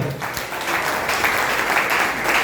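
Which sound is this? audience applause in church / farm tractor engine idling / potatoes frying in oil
audience applause in church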